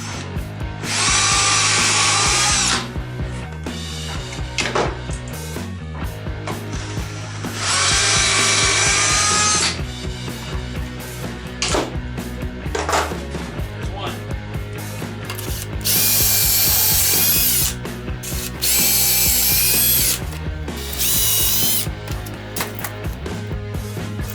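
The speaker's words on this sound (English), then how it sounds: "it's time to get our pocket hole jig. And I'm going to go ahead and put 2 pocket holes on the top of every single leg." A power drill bores pocket holes with a pocket hole jig into the tops of 2x4 chair legs, giving several loud sustained whining bursts separated by quieter clicks and handling of the wood.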